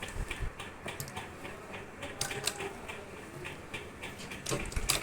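A sewing machine stitching pleats into a saree runs in quick rattling bursts of needle ticks, close and fairly quiet, with brief pauses between runs and no speech.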